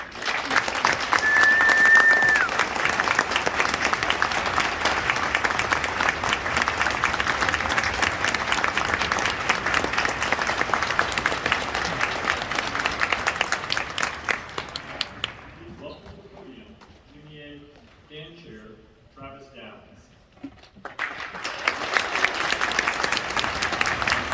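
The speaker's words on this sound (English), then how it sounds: "would you please stand now for a round of applause and thank you for all you do" A concert-hall audience at a Georgia all-state band event applauds administrators and teachers with loud, sustained clapping. The applause drops away to a quieter stretch before clapping swells again at the end.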